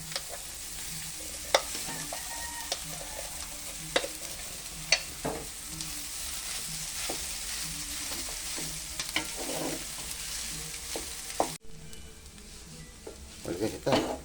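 Rice stir-fried for sinangag, Filipino garlic fried rice, frying in a pan: a steady loud sizzle throughout with repeated scraping strokes of a spatula, a brief drop near the end before the frying resumes.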